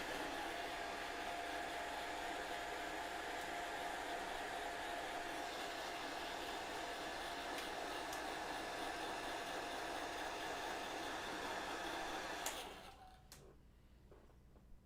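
A hair dryer blows on freshly painted miniature shoulder pads, a steady close whooshing roar that runs unbroken for about twelve seconds before switching off into near silence.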